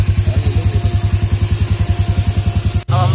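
An ATV engine runs during a ride in Kufri, Shimla, with a loud, close, steady rhythmic putter that cuts out abruptly near the end before the sound shifts.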